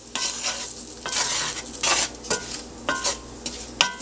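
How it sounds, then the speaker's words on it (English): Flour being stirred into browned vegetarian sausage in a hot pan, with repeated scraping strokes and a steady sizzle coming in bursts, close and moderately loud, no voices. "Add in your flour. Keep stirring until it's nice and mixed in together."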